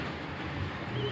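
Kawakuli high flyer pigeons, four pairs with white young, give a low, soft coo over a steady background hum in a short, quiet stretch.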